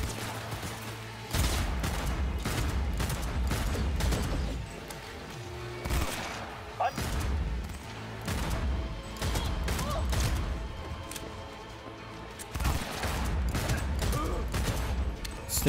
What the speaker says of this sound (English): Seeing a lot of shots right there.